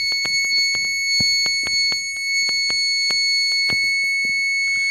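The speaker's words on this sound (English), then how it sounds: "the alarm is sounding" Alarm on a water level indicator project signalling a full tank, holding a continuous shrill electronic tone over rapid irregular clicking, close and loud, with no one talking.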